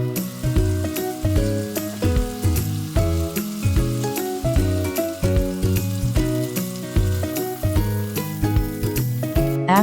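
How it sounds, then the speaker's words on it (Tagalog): Hot dogs pan frying in peanut oil, a steady sizzle running under a bright, rhythmic musical backing for around ten seconds. "Steam and pan fry the hot dogs."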